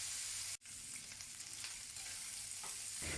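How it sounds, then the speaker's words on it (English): Pork stir-frying in a pan for Taiwanese braised pork rice, a steady soft sizzle with a brief break near the start, then continuing evenly and quietly. "Stir fry the pork over medium heat and constantly stir to ensure even cooking."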